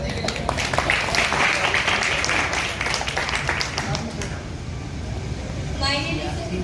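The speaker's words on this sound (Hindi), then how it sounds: "एक बार जोरदार ताली सती के लिए" An audience at an event in Patna's CRC building claps for a special education diploma student, a dense, loud burst of applause lasting about four seconds before thinning out, with voices mixed in.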